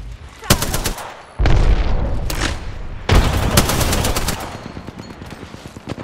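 Rapid bursts of video game gunfire crack close and loud, several sharp volleys separated by brief pauses, with a player talking over the shooting.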